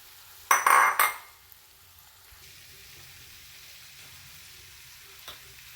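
Cooked beef dropped into a hot pan for beef fry gives a loud, brief sizzle burst near the start, settling into a faint steady frying hiss with a small clink near the end.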